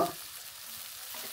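Onions frying in oil in a pan for a restaurant-style fish curry, a soft, steady sizzle with a faint stir at the start, close and continuous.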